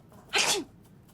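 A game character sneezes once, a sharp, loud, close burst standing alone with no talk over it.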